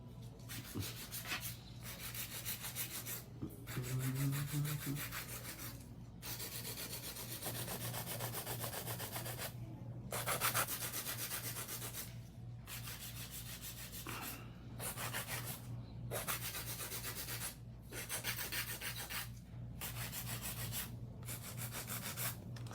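An acrylic fingernail is shaped with a hand file in rhythmic back-and-forth strokes, a soft, close rasping broken by short pauses between bursts, fairly quiet and without speech.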